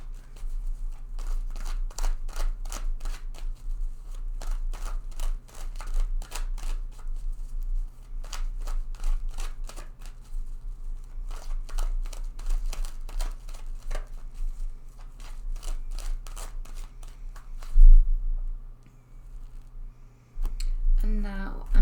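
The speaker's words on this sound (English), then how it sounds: "So first of all, I'm just going to shuffle this deck several times." A tarot deck is shuffled by hand over and over, the card riffles and flicks coming in quick, steady bursts close to the mic, with a low hum underneath and no one talking.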